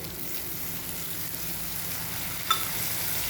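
Masala paste for ambadi sukat fries in a pan with a steady, close, even sizzle. A single brief clink sounds near the end. No one speaks.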